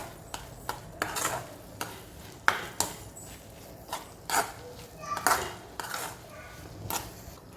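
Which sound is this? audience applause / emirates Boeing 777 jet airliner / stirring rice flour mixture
stirring rice flour mixture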